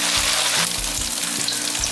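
Tofu pan-fries in oil in a wok, giving a steady close sizzle and crackle with a few soft scraping stirs and no voices.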